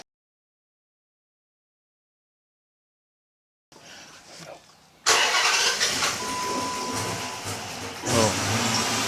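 A 2006 Dodge Charger with a 5.7L engine and stalling and surging faults cranks after several seconds of silence, then catches into a loud, rough, uneven run that swells and dips; no one speaks.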